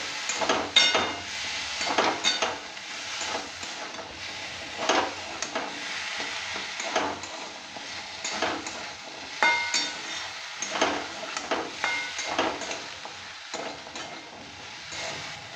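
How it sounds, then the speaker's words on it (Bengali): Samuk snail curry with ridge gourd and potato being stirred and fried in a pan, soft sizzling under frequent uneven scraping and clinking of a spoon against the pan, close by. "এটাও ভালো করে দিয়ে নেড়ে চেড়ে কষিয়ে নিতে হবে।"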